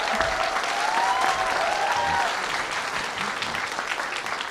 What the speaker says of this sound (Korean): 박수로 여러분의 존재를 한번 증명해 어두워서 주시죠